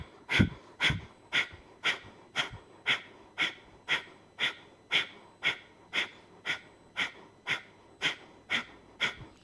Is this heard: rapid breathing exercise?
yes